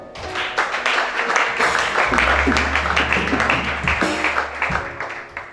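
A church congregation at a prayer and deliverance service applauds together, a dense, steady wash of clapping that holds for several seconds over a low hum, with some voices mixed in.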